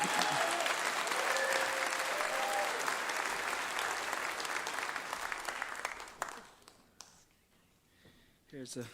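A live audience applauds at a loud, dense level, then the clapping thins and fades near the end, leaving scattered claps and faint crowd murmurs.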